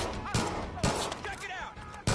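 Gunfire in a Far Cry 5 firefight, with sharp shots cracking out at irregular intervals, fairly faint beneath game voices and other in-game noise.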